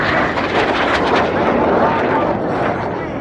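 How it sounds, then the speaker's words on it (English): Red Arrows jets crossing close in the boomerang manoeuvre at an air display produce a loud, dense, continuous roar that swells and holds for a few seconds. "Each aircraft pass within only 30 metres"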